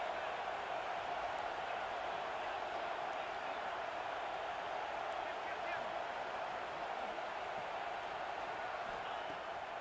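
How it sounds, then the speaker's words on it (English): Dense stadium crowd roar from a college football video game dynasty, a steady, loud wash of cheering and noise that holds unbroken for the whole stretch with no clear pauses. "This crowd trying to make life miserable for this offense."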